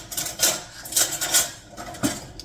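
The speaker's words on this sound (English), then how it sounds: "You're gonna get to watch me whisk it up." Sourdough starter whisked with a dough whisk, a few uneven clinking, scraping strokes against the container in irregular rhythm, close by with no talking.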